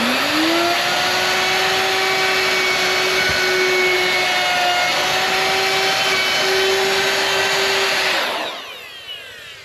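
Power sander working on a window jamb inside a tiny house, a steady loud whine with a constant hum that runs unbroken for about eight seconds, then cuts off and winds down.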